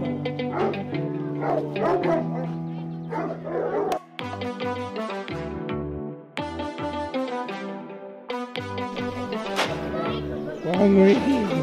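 A large pack of big hunting dogs barks, yelps and whimpers eagerly at feeding time in France, a dense chorus of overlapping calls that stays loud throughout.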